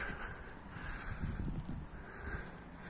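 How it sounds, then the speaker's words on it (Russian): Light morning breeze at the Mamayev Kurgan memorial in Volgograd, a soft steady wind rumble and microphone buffeting with faint rustling, no voices. "Ну, есть такой легенький ветерочек."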